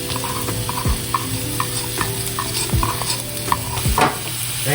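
Onion sizzling and frying in a hot pan, a steady close crackle with a few brief stirring scrapes and clatters.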